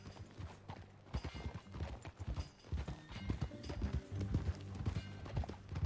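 Hooves clip-clop steadily as a horse rides along in Red Dead Redemption 2, a close and continuous run of low thumps with a faint whinny-like hint and no talking.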